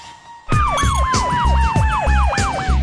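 Loud wailing ambulance siren starts abruptly and cycles in rapid rising-and-falling whoops, close and dominant, with a steady engine drone underneath.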